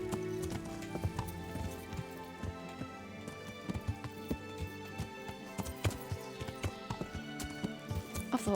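Steady horse hooves clip-clopping at a walking rhythm, close and clear, over a low droning game soundtrack in Kingdom Come: Deliverance.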